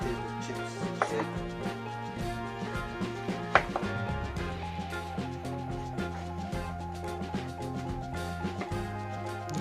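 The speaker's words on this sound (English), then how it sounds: "So right now I'm going to slice this half of breadfruit." A knife slices through half a breadfruit on a cutting board in repeated close, crisp chopping strokes, steady and rhythmic with occasional sharper knocks.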